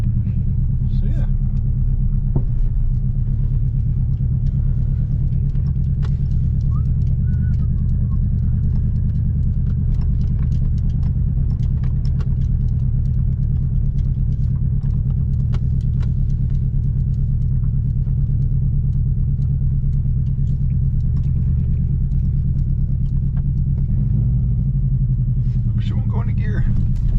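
A car on coilover suspension rumbles as it pulls away, a steady low engine drone with occasional clunks and knocks throughout, loud and close with no talking.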